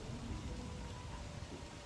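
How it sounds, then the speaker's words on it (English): Steady rain with a low rumble of thunder in the survival video game Don't Starve, a soft, even wash of noise with no talking over it. "And now it's raining."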